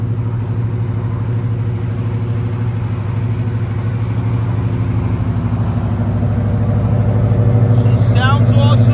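A 1971 Dodge Challenger R/T with a 383 high-output V8, 727 transmission and 440 heads, runs with a steady, loud, deep engine rumble throughout, building slightly toward the end, with talk over it.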